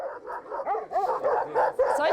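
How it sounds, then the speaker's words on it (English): Shepherds' guard dogs bark and yip aggressively in quick overlapping bursts with some whimpering, fairly close and continuous, without talk. "The shepherds protect their flocks with dogs like these. They're pretty aggressive, as you can see"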